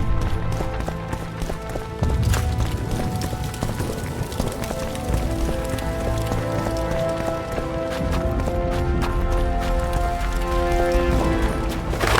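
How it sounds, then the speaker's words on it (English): Horses gallop with a steady clip-clop of hooves in The Witcher 2 video game, running under a dense layer of orchestral music and ambient noise, loud and continuous throughout. "Where are these horse coming from?"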